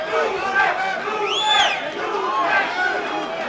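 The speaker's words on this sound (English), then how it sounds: "I'm hearing chants of Lupe" Boxing crowd at a fight-night main event chanting a fighter's name, rising and falling voices swelling in a loud, echoing arena roar, with a commentator talking over it.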